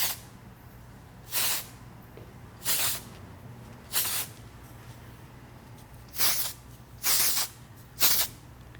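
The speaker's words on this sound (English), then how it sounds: "I'm going to spray it like this, right at the roots" Six short, breathy hisses of hair spray sprayed at the roots of long hair, each about half a second, spaced irregularly against a quiet background hum.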